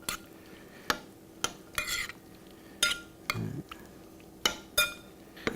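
Vegetable stock being stirred into gazpacho with a utensil: scattered sharp clinks and scrapes against the bowl in irregular bursts, fairly close and quiet, with no talking.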